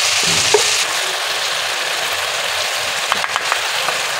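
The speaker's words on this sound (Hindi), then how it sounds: "अदरक लहसुन 2 बड़े चम्मच डाल देंगे हम इसमें।" Two tablespoons of ginger garlic paste sizzle and fry in a pan of hot oil for a chicken karahi, a steady close hiss with a few soft stirring clicks and no talking.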